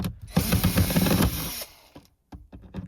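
Screws are loosened with a tool while the radio is removed from a 2007-2013 Nissan Rogue: a close, buzzing mechanical whir for about a second, then several short clicks and scrapes of handling. No talking.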